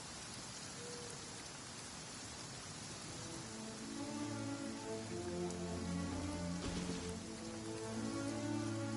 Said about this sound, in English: The rain won't slow me down.